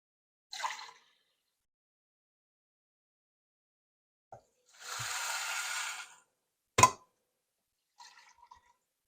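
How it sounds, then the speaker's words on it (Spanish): Bean cooking water is poured into a pot for Cuban congrí, a steady splash lasting about a second, with scattered clinks and drips before and after in an otherwise quiet kitchen. "vamos a proceder a echarle el líquido"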